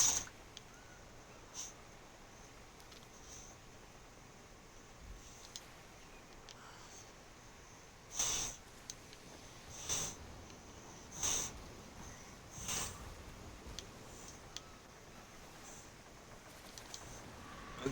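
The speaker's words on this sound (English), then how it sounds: "What are you blowing your nose on me, pup?" A pup snorts and blows air through its nose in a handful of short, sharp bursts, close by, scattered across an otherwise quiet stretch with no talking.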